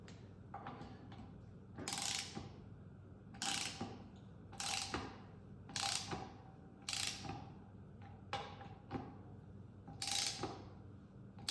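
A wrench ratchets bolts on a 1948 Ford 8N tractor, giving repeated bursts of close mechanical clicking, about seven or eight runs with short pauses between them.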